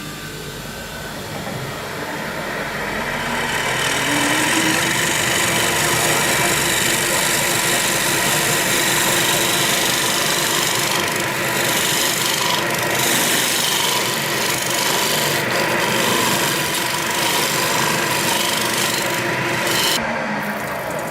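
A woodturning tool being sharpened on a grinder for turning a tulip poplar bowl, a continuous loud rasping grind that rises in the first seconds and then holds steady, close up.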